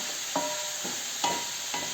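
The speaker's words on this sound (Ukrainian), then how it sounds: "смажимо до до золотистого золотистої скоринки такої" Overgrown cucumbers and vegetables frying in oil until golden with a constant high sizzle, broken by a few scraping strokes of a utensil stirring the pan.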